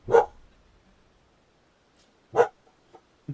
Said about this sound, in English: it's just another dog. They're just like you.